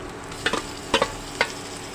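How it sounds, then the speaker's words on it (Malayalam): Crushed ginger, green chilli, garlic and shallots fry in a pan for a meat rice dish, with a soft hiss underneath and three or four distinct scraping stirs of a spoon, close by. "എന്നിട്ട് നമുക്ക് ഇതെല്ലാം നല്ലതുപോലെ ഇളക്കാം"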